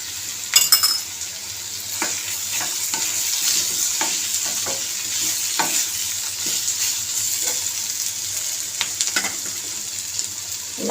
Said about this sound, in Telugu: వేసి చక్కగా కలిపేసి కొద్దిసేపు వేయించుకోవాలండి